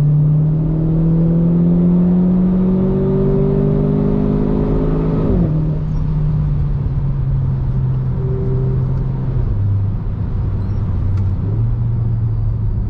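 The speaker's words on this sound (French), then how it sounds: "en automatique, on entend bien mieux les passages de rapport" A Renault Clio 4 RS Trophy engine revs up through its automatic gears, the pitch climbing then dropping at each shift, with a steady loud drone throughout.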